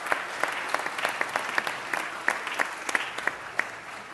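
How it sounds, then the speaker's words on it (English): Applause from a city council meeting audience, a modest crowd clapping steadily with distinct individual claps standing out, moderately distant and without talk. "request that you give yourselves a round of applause"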